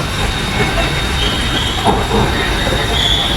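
A train pulls into a busy station, loud rumbling wheels with a high metallic squeal of the rails, steady and close throughout while people wait on the platform.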